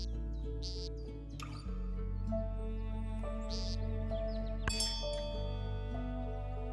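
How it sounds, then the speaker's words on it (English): Chirping bird calls ring out from clicking a bird card in the board video game Wingspan, a few short tweets over soft background game music. "If you click on your bird card, it actually makes a noise."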